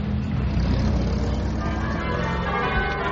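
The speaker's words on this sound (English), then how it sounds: "Mummy, the church bells. Can you hear them?" Church bells ring steadily beneath a constant low rumble of traffic, the tones blending into a continuous resonant wash without clear individual strikes.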